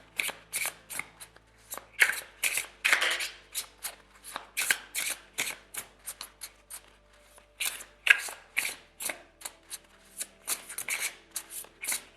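Oracle cards are shuffled by hand in a steady run of close, crisp riffling and slapping bursts with short pauses between them, and no talking.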